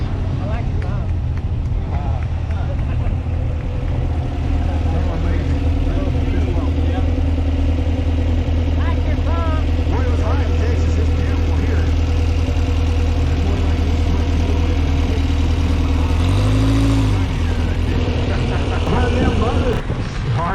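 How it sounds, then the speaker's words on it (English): A rowdy little 1950s Porsche engine rumbles steadily at low revs, close and loud throughout, with a slight swell in pitch late on, while people talk over it. "It's a rowdy little Porsche from the 50s."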